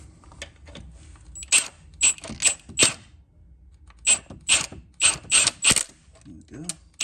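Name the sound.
spanner loosening a bolt on Volvo D5 engine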